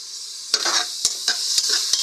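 Tomatoes going into a hot pot for pork sinigang with garlic, giving a steady, close sizzle and frying hiss broken by several sharp clinks and scrapes of a utensil stirring against the pot.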